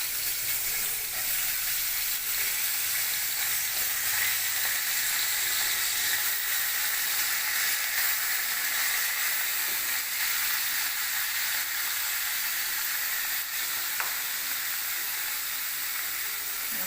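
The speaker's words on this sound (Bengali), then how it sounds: "কড়াইতে তেল দিয়ে দিব। এখন বিনস ভাজা করব।" Beans frying in oil in a kadai make a steady, close, continuous sizzle and hiss that stays even for the whole stretch, with no talking.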